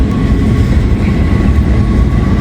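An intermodal freight train with a single locomotive rolls past, a loud steady rumble of wheels and cars close by, continuous and unbroken.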